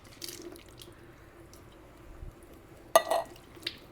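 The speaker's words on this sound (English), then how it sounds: "We're going to drain that juice out." Juice draining from a can of diced tomatoes: faint trickles and drips, then a short louder splash and clink of the can near the end, with no voices.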